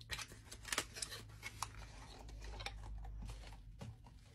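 Plastic blister wrap is peeled and crinkled off a Hugo Boss perfume box, giving faint, close, irregular crackles and snips with a low hum underneath and no talking.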